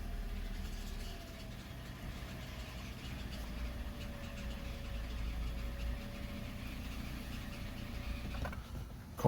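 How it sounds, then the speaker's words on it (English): Car engine idling steadily after starting during an oil change, a low, even rumble with a faint whine throughout and a small knock near the end. "Car's making some vehicle noise."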